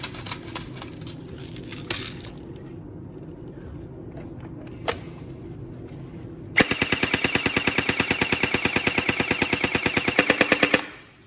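A Tokyo Marui SGR12 AEG airsoft shotgun with a high-speed motor fires full auto in a fast, even burst of sharp mechanical cracks that lasts about four seconds. A low motor hum and a few isolated clicks come before the burst.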